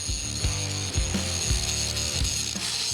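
A 4.5-inch disc grinder grinds down leftover metal brackets on a Cadillac hearse build, a loud, continuous whining drone with a rhythmic mechanical chatter underneath, close and steady throughout.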